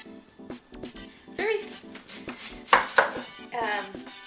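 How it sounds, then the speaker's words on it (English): An onion being cut up on a board for a veggie pate, a series of sharp knife taps in an uneven rhythm, close, with a voice speaking intermittently over them. "now I'm going to cut up the onion"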